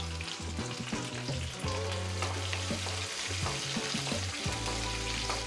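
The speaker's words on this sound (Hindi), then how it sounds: "अब इसमें जाएगा प्याज।" Onion sizzles and fries in hot oil in a pan with urad dal, chana dal, mustard seeds and curry leaves, a loud steady crackling hiss with stirring scrapes and no talk.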